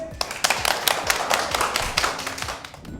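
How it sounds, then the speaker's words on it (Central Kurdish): Applause from a group of school students in a music class in Erbil, a brief burst of quick, uneven hand claps and taps close by, with some overlapping voices. "هەر بژین یەک چەپڵەی بێز"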